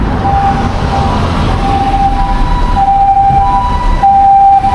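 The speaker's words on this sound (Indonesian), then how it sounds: "Suara ambulan di Jepang." An ambulance siren in Japan wails steadily from start to finish, loud and continuous over a dense rumble of road traffic.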